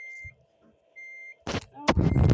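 Reversing beeps from a truck in a truck driving video game: a few short, evenly spaced electronic tones over quiet background, followed by bursts of louder noise near the end.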